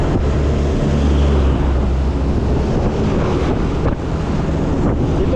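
Wind and surf at a white-sand beach without coral in Anyer, a steady loud roar of wind buffeting the microphone over breaking waves, continuous throughout with no talking.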